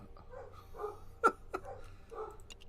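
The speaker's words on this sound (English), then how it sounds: "dogs are barking pretty good there" Dogs barking at home, a few short muffled woofs and yips in quick succession, fairly quiet and somewhat distant against a low background hum.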